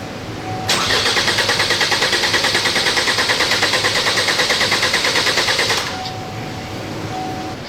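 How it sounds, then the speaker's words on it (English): Car engine cranking over steadily on the starter during a compression test, a fast even pulsing rhythm of about five seconds, close and loud, with a quieter idle-like hum before and after. "now it tells us to crank the engine"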